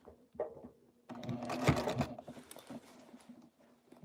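A sewing machine stitches a half-inch sleeve seam, running in a quick rattling burst of a couple of seconds after a few light handling sounds, then slowing to quieter clatter.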